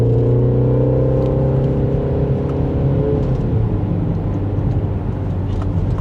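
A 2026 Mini JCW Countryman accelerating hard from first gear, its engine a loud, rising drone that climbs in pitch, then drops as it shifts near the three-second mark and keeps pulling, heard from inside the cabin.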